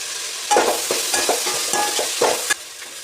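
Onions and curry leaves sizzle in hot oil for a home-style Kerala chicken curry, with a steady frying hiss broken by several scraping stirs of a spoon against the pan, close and clear with no talking.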